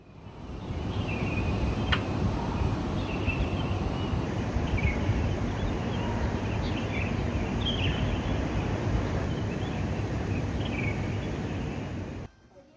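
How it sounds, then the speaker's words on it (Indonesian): Birds chirping and calling in the cool morning in Bandung, scattered song in the middle distance over a steady background hum. "Kita dengar suara burung ya."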